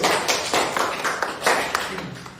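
A class claps for a student during a Boolean logic lesson, close, dense clapping lasting the whole stretch.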